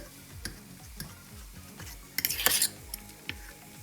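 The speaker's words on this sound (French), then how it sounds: "je vais mélanger un petit peu mon quinoa et mes lentilles" A spoon stirs cooked quinoa and lentils for a vegan steak mix, giving soft scrapes and light clicks, with a brief busier burst of scraping and clinking near the middle.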